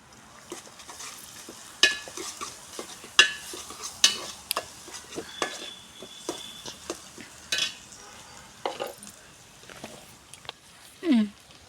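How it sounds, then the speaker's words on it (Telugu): Onions sautéing with turmeric and ginger paste, crisp spoon scrapes and clinks against the pan over a light sizzle, irregular and close, with a brief squeak or voice near the end. "ఉల్లిపాయలు అయితే బాగా మగ్గుతున్నాయండి దీంట్లో కొద్దిగా పసుపు వేసుకుందాము అలాగే అల్లం పేస్ట్ కూడా వేసుకుందాము"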